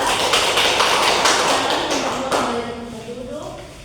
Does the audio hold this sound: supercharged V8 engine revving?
no